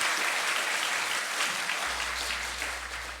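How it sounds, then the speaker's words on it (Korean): Congregation applause during a Korean church Sunday service, a steady dense clapping that fills the room throughout and tapers slightly at the end. "감사의 박수 하겠습니다"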